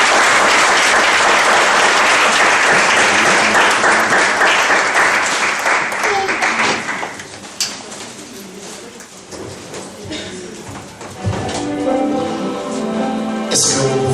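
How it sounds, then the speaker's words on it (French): A church congregation applauding loudly, dense clapping that fades partway through. Scattered bird coos follow, then a fresh burst of clapping near the end. "On acclame très fort le Seigneur."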